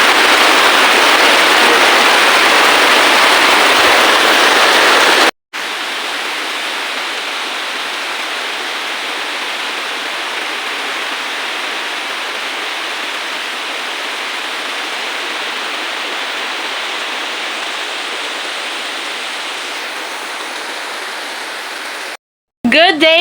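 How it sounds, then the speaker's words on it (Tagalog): Heavy rain pours in a dense, steady hiss, loud and unbroken, with two abrupt cuts to silence. "Malakas yung ulan."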